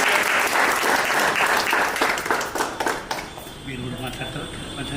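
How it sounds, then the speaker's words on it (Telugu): Applause at a birthday celebration in a silver jewellery shop, a burst of close, dense clapping from a small group that fades after a few seconds into quieter room sound and voices. "ఒక్కసారి క్లాప్స్ ముందు ఉంటాయి"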